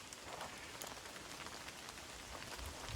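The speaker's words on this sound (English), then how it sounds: "Hear the rain." Light rain falling steadily on a forest trail during a hike, a soft continuous patter of drops on leaves and ground, faint and even with no voices.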